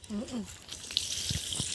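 Water is poured out for plants and cattle on a farm, a close, splashing gush that starts after a brief voice and keeps running steadily.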